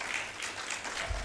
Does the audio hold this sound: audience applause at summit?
yes